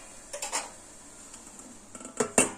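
A metal lid clinks onto a pot of boiling amla, giving a few light taps and then a sharper clatter near the end, over a faint background hiss.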